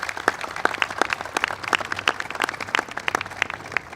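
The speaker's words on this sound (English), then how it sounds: "Please give him a big round of applause." An audience at a government event applauds for several seconds in a steady patter of many hands clapping, moderately loud with no voices over it.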